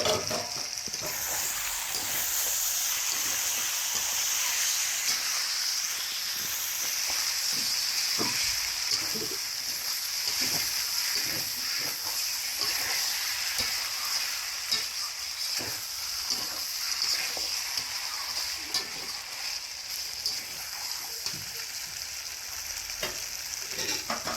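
Goat meat fries in a pan with a steady, dense sizzle, while a spatula stirs it in frequent scraping strokes throughout, close and continuous with no talking.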